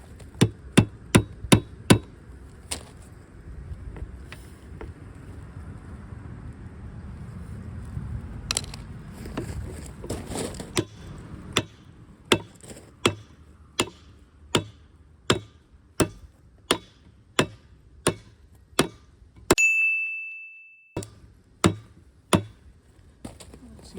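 Hammer striking an engine pulley during a 1970s Sears Suburban Lombardini diesel engine swap, a long series of sharp metallic blows at a steady rhythm, close, with a person talking faintly between hits and a brief ringing tone near the end.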